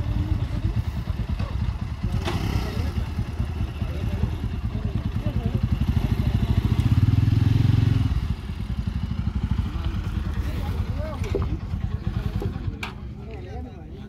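A motorcycle is handled and unloaded: its engine runs steadily at a mid-pitched idle with clattering bumps, then drops lower near the end, and a voice talks over it.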